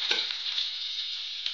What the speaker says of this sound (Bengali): এই তো সরিষার তেল দিয়ে দিলাম, এখন দিয়ে দিব পেঁয়াজ